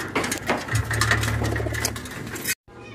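Racing pigeon arriving at its loft in Moncada, Tarlac, giving low soft coos over flapping and rustling, then a brief drop to near silence.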